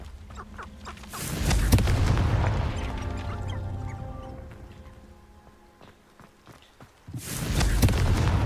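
Confringo fire-spell explosions in Hogwarts Legacy: a loud, close blast that rumbles and decays over several seconds, then a second burst near the end.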